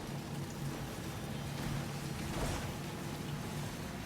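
Timefall rain in the Death Stranding 2 video game pours steadily, a soft even wash of falling drops with a faint low rumble, constant and unbroken throughout.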